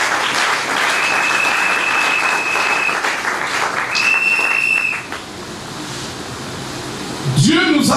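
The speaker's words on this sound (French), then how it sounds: "Acclamons pour le Seigneur." A church congregation at a New Year's Eve service claps loudly and steadily to acclaim the Lord, with whistles piercing through and voices calling out over the dense applause, which dips briefly before swelling again.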